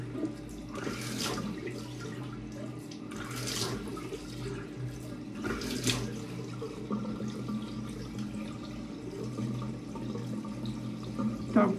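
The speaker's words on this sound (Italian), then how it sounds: "Ci apriamo l'acqua fredda." A cold-water tap runs into a sink during a shave, a soft, steady splashing flow that carries on throughout with no talk.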